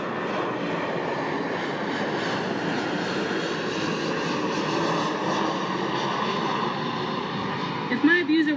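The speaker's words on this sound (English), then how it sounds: "I'll let this plane go by so you can hear me on this" An airplane passes overhead outdoors, its engine drone loud and sustained throughout, with a steady roar and faint harmonic whine.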